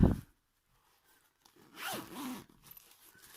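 A zip on a handmade prodigy bag with a lining is drawn open or closed, giving a short, close rasping zip after a quiet pause, with light handling rustle around it.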